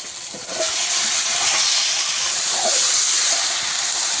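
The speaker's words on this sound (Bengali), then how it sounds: "এবারে মাংসটাকে দিয়ে দেবো" Chicken pieces dropped into a pan of spice masala fried until the oil separates, giving a loud, steady hiss of sizzling that jumps up after a half-second and holds evenly, with no talk.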